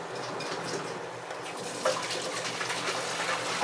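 Pork and chayote boil in a pot, a steady close bubbling and watery rumble that continues evenly throughout with no talk.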